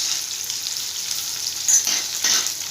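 Cashews, peanuts, roasted gram and chana dal fry in a pan for semiya upma, a loud continuous high hiss of sizzling oil with a couple of brief stirring swells near the end.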